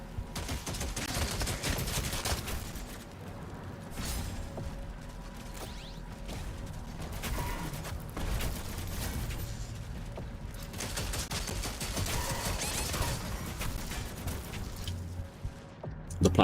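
Weapons firing in the video game DOOM: The Dark Ages: dense, continuous rapid mechanical gunfire and clanking bursts, loud and sustained throughout with a heavy low rumble underneath.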